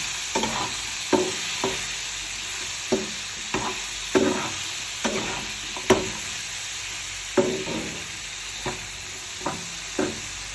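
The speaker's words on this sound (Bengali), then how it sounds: "আগে থেকে কেটে রাখা টমেটো কুচি, এবার এটাকে কিছুক্ষণ ফ্রাই করে নেব।" Chopped tomatoes fry in a pan with a constant soft sizzle, broken by regular scraping strokes of a spatula stirring them, close and moderately quiet with no talking.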